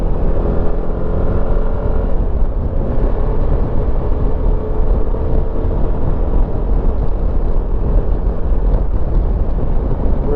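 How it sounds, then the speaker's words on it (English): A 2022 Suzuki V-Strom 1050XT cruises in fifth gear at 70 mph on a smooth road, giving a steady, unbroken engine drone mixed with heavy wind rush and no talking. "We're in 5th gear going 70."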